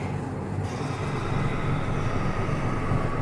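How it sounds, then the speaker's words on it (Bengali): An express train speeds past at night through forest with a loud, continuous roar and rumble that holds steady throughout. "দুর্দান্ত গতিতে স্পিডে এক্সপ্রেস ট্রেন ছুটে চলল"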